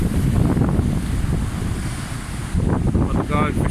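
Wind buffets the microphone over rough ocean waves and surf at Isipingo Beach, Durban, in stormy weather, a loud continuous roar with no clear breaks.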